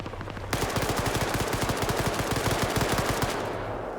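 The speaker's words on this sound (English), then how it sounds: "And now they're shooting out the wheels of the Vic to make sure it's down." Sustained automatic gunfire in Arma 3 as players shoot out the wheels of a disabled vehicle during a large Christmas-themed PvP battle; dense, rapid bursts run loud and continuous for several seconds before easing off.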